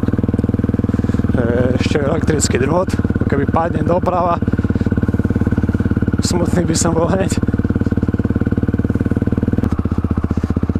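A supermoto motorcycle idles and putters steadily up close along a narrow forest footpath, its engine a constant throbbing drone with occasional throttle blips, while someone talks over it.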